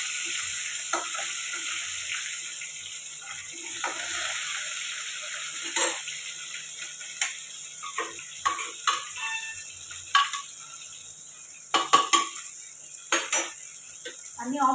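Mutton keema is scraped and poured out of a metal pan: a faint background hiss under a run of sharp metallic clinks and scrapes that grow busier toward the end.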